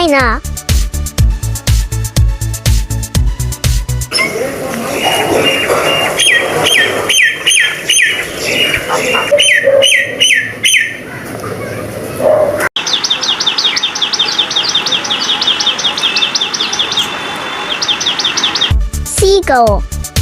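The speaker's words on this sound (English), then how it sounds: "Myna." Myna bird calling in an animated bird clip, a busy mix of loud whistles, chirps and chattering notes, later turning into a rapid repeated trill, framed by short bursts of music at the start and end.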